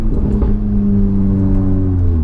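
Tuned 460bhp VW Golf R engine idling and revving gently in normal drive mode, a loud, steady low burble with smooth rising and falling harmonic tones, close by and without talk.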